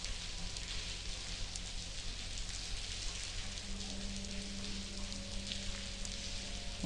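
Rain falls in the adventure game The Blackwell Convergence as a steady, soft, hissing patter of drops that stays constant throughout, with a faint low hum underneath and no voices.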